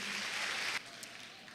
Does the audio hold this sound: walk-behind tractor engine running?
no